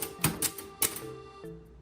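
Keys struck on a Clover Topstar Korean typewriter, a few sharp, close clacks spaced irregularly, with a faint mechanical thud near the end and no talking.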